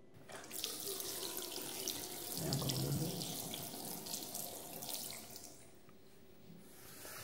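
Water runs steadily from a tap in an abandoned villa, a continuous close hiss that swells in the middle and then eases off, with no voices over it.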